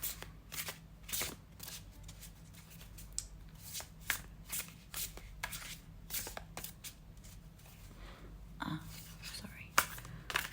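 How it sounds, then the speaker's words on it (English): Tarot cards are shuffled close up in a quiet room, a long run of soft, rapid riffling and flicking bursts with brief gaps and faint handling noise. "now we're gonna start picking up your tarot decks"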